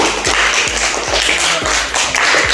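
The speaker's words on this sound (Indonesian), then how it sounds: "Coba tepuk tangan untuk Mikaela." Children in a classroom clap their hands together in a quick rhythmic pattern of repeated taps, close and fairly loud, with no talk over it.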